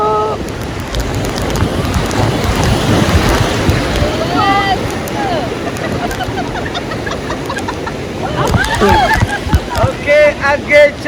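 River rapids and waterfalls during rafting in Bali make a loud, continuous rush of churning water, with wind buffeting the microphone. People shout and talk over the noise throughout.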